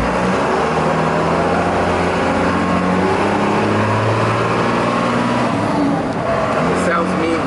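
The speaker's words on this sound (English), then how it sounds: "I'll let you hear this thing shifting right there" Diesel engine of a miniature Peterbilt semi truck runs loud and steady close by, its low rumbling tone stepping through gear shifts with rising and falling revs, a voice heard faintly over it.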